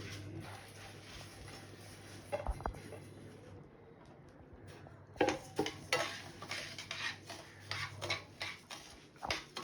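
Soaked, washed and dried rice being roasted in a pan for payasam: scraping and stirring clinks of a utensil against the pan, intermittent and close, with a soft low hum underneath and no talk.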